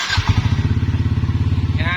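A Yamaha scooter engine catches and runs, its rapid, even thumping pulse up close for a couple of seconds, with a voice speaking briefly at the start.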